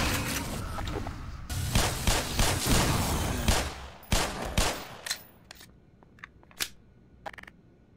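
Rapid double-shot gunfire in the Black Mesa game, a dense burst of loud cracking shots for several seconds that thins into scattered single reports and sharp clicks, with no talk.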